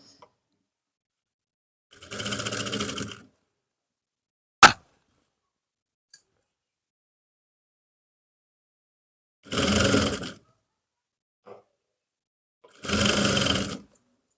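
Sewing machine stitching a trouser seam in three separate short runs, close and steady, with small clicks between them and no talk.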